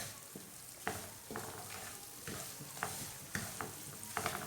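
Semolina roasts in a pan for halwa while a spoon stirs it with soft, regular scraping strokes over a faint, steady sizzle, heard close up and quiet with no talking.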